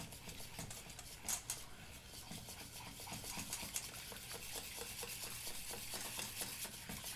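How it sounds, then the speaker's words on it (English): Cream and cream cheese whisked together in a bowl, the whisk scraping and stirring in a steady soft rhythm of close, slightly wet clicks and swishes, with no talking. "We're going to start by just gently mixing the cream and cream cheese together until it kind of combines."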